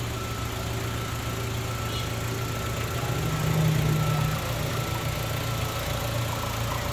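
A used three-row family car's engine idles smoothly, a steady low hum with a constant drone, close and even in level from start to finish.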